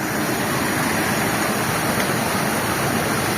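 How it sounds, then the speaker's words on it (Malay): The Batangeh waterfall in Tamiang, Malalak, roars as a steady, loud, unbroken wash of falling water with no voices heard. "Ini air terjun Batangeh yang ada di Tamiang"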